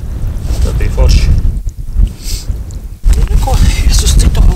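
Wind blows across the ice during winter ice fishing, a steady, close, rough rush that buffets the microphone for several seconds, briefly easing twice before returning at full strength.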